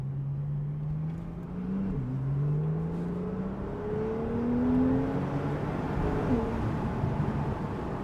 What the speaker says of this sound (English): I kind of like what sound that is produced by this generation of the 911.